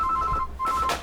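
A telephone rings in a pharmacy, giving short repeated electronic trills in a quick broken pattern, fairly clear and close, with no talk.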